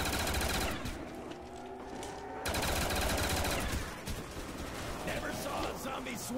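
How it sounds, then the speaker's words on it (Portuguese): Gunfire in the Kino zombies map of a shooter game, rapid bursts of automatic fire with a short lull in the middle, loud and close, while a voice talks over it. "Vou atirar mais nos caras"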